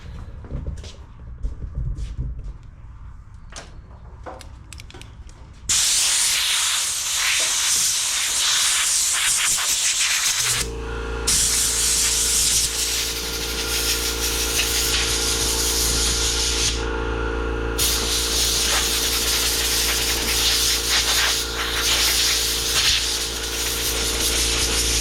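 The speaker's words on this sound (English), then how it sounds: "let's go here and grab Angelica's blower" An air blower switches on partway through and runs with a loud, steady rushing hiss and hum, briefly cutting out and restarting, after some quieter handling noises in a workshop.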